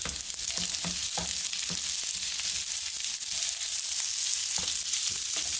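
Chicken fried rice sizzling hard in a hot pan with olive oil, a constant bright hiss broken by repeated scraping and tossing strokes of a stirring utensil.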